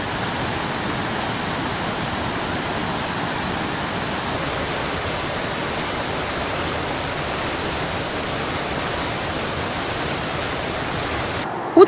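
A waterfall a few metres away at dawn in the Mali countryside, a steady, dense roar of rushing water that stays even and constant throughout.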